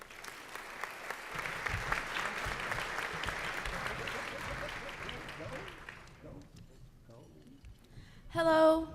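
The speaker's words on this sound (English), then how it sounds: "Give them a round of applause." Audience applause at a charity fall luncheon in Dallas, steady clapping filling the room for about six seconds before fading, then a voice speaks briefly near the end.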